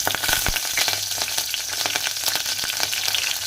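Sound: tempering dried chillies and curry leaves in hot oil

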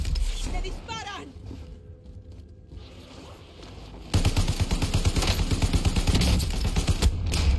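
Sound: gunfire in a video game

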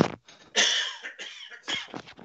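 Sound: cough

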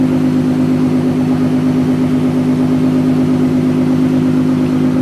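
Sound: 2013 Ford Mustang 3.7 with Roush axle-back exhaust

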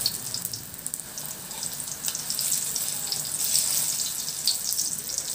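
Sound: saba bananas pan-frying in oil

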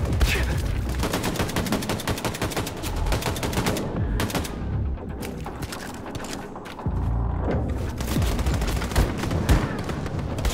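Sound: gunfire in a video game

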